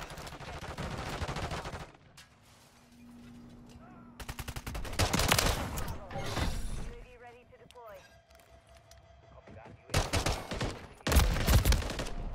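Gunfire from the video game Modern Warfare 3 comes in loud automatic bursts, with quieter gaps between volleys and a player talking over the action.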